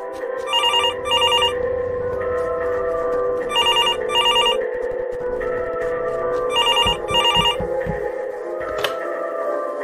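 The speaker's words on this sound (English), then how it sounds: "Is that the Mira HQ phone? I better go pick it up." A phone at Mira HQ rings in Among Us, bursts of an electronic telephone bell repeating in pairs over a steady synth music bed, loud and close.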